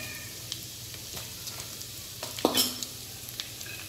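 Almonds and cashews roasting in hot ghee in a pan, a soft steady sizzle with scattered light scrapes and one brief louder clatter, close and quiet.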